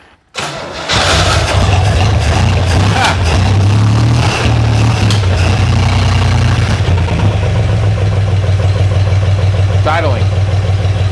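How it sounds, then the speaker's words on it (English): A 1963 Jeep CJ5 engine cranks and catches, then settles into a rough, steady idle with a deep rumble, as voices speak over it. "It's idling."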